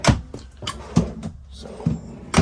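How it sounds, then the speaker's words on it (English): A cabinet drawer in a 2015 Winnebago Travato 59G camper van sliding and bumping, heard as several distinct close knocks and thuds spread across a few seconds with quiet gaps between them. "Another drawer."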